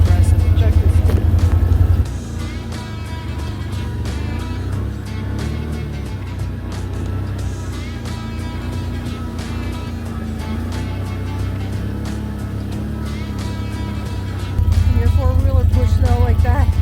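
A 4-wheeler ATV fitted with a plow pushing through deep snow after a snowstorm, its engine a steady droning hum throughout that grows louder and rougher at the start and end.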